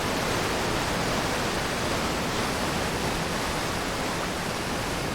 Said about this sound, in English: Still think the water is kind of loud.